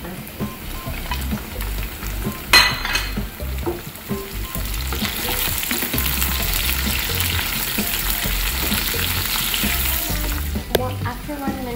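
Green pepper frying in a pan with garlic for chili chicken, a steady close sizzle that holds throughout, with a few brief clatters of stirring near the start and end.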